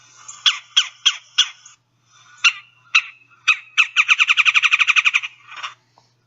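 Red-bellied woodpecker calling alone at close range: four evenly spaced harsh churring quirr notes, a short pause, several more spaced calls, then a fast run of rolling chug-like notes ending in a final call.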